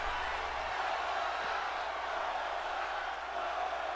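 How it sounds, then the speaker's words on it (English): Arena crowd noise from WWE 2K24 wrestling rolls on as a steady, dense roar throughout, loud and continuous without distinct breaks. "Crowd chanting one more time"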